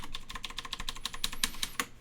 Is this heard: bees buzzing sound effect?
no